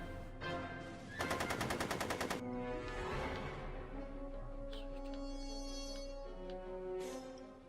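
Rapid gunfire from the Back to the Future video game: a loud burst of machine-gun-like shots for about a second, then scattered sharper reports over ongoing game music and ambience.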